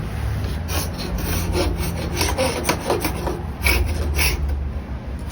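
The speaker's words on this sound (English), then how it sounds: "That's easy to take care of with just a paint scraper." A paint scraper rasps glue squeeze-out off the edge of a wooden lamination in a steady series of short, close scraping strokes, with no talking.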